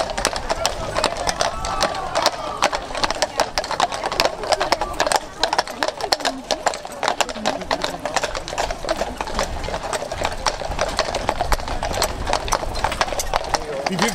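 Horses' hooves clip-clop steadily on a road during a racing-horse procession through a town, a dense rhythmic clatter running the whole time under nearby chatter.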